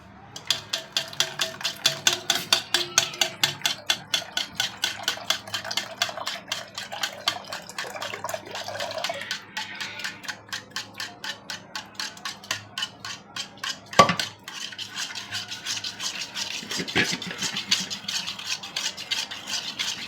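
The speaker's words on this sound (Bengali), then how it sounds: "তো এইখানে আমি আস্তে আস্তে ডিমটার মধ্যে দুধটা দিয়ে দিব।" Warm milk is slowly added to beaten eggs while a utensil whisks rapidly against the bowl, making a fast, even rhythmic clatter of taps that runs close and clear, pausing briefly near the middle.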